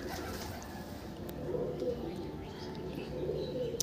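A full-sira male pigeon in a loft gives soft low cooing under quiet background noise, with faint room sounds and brief chirps around it.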